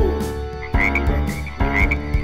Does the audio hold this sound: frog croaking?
yes